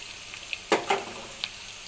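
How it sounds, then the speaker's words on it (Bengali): Onions and green chilies hit a hot pan already holding cardamom, cinnamon, cloves and salt, giving a faint, continuous sizzle broken by a few sharp crackles and stirring scrapes. "পেঁয়াজ আর কাঁচামরিচ এখন দিয়ে দিলাম"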